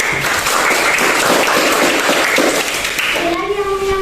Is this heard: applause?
yes